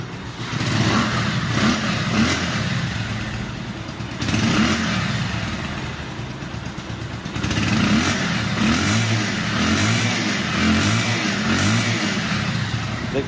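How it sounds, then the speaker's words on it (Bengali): Bajaj Pulsar 150cc double-disc motorcycle at about 992 km, its engine idling then revved in three repeated bursts up close, steady and loud between throttle blips. "এখন দেওয়া হচ্ছে বাইকটির সাউন্ড।"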